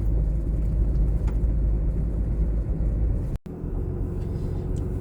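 A vehicle rolls slowly along a gravel road, giving a steady loud low rumble of tyres and engine from inside the cab, with a brief dropout partway through.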